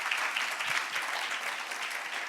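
A brief burst of steady clapping from a conference audience for a panel, even and moderately loud throughout the short stretch, with no voices over it.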